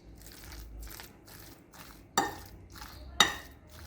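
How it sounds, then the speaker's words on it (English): Ingredients for a pilchard fish dish being mixed together in a bowl, with soft scraping and stirring under two sharper clinks of a utensil against the bowl, quiet and close. "we're going to mix this together"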